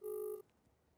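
A single short electronic telephone tone from a busy call, lasting under half a second and cutting off abruptly into near silence.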